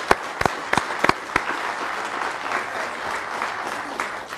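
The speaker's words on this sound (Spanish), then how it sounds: "yo les pido un gran aplauso para los mujeres" A studio audience on a Mexican talk show applauds for women, with several sharp, close claps at the start giving way to a steady wash of clapping.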